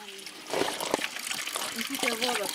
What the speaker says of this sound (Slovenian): Majhen slap iz zgornjih snežišč, ga skozi te skale